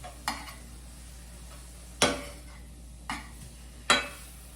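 Pieces of crow meat being flipped in a frying pan: four sharp clanks of a utensil against the pan, spaced irregularly over a low steady sizzle.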